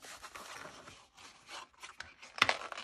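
A paper card panel being laid down and folded by hand for a pop-up craft project: soft close rustles and rubbing scrapes in short bursts, with a sharper crease snap near the end, and no talking.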